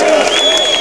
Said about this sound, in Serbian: Veliki aplauz za veliki orkestar